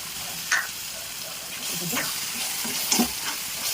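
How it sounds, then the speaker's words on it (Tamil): Ground tomatoes going into frying mutton biryani masala, a soft, steady sizzle with a couple of stirring scrapes and light clinks, fairly quiet, no clear talk. "இப்போ தக்காளி பழத்தை சேர்த்துக்கோம்"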